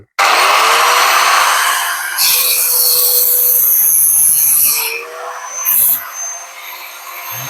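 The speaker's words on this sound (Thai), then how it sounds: "ลองใช้ใบ ใบเลื่อย วงเดือน" A loud, harsh angle grinder fitted with a circular saw blade whines and grinds steadily, its pitch shifting as it bites into material, with brief surges and dips in intensity.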